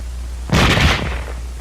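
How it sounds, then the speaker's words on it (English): A single sharp rifle shot from a bolt-action rifle, a loud close report with a brief decaying tail and no talk. "It can fire only as fast as a man can open and close the bolt."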